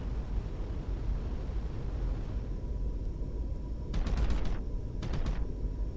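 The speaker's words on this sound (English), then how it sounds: "let the plasma cannons fire." Plasma cannons fire in the space game Starcom: Unknown Space in two quick bursts of sharp rapid shots over a low rumbling engine drone.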